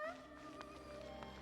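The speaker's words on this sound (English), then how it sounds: "Hey, cat." A single drawn-out meow from a cat in the Genshin Impact game, close and clear, with a faint hum of game ambience underneath.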